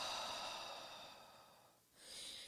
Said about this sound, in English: exhale to the mouth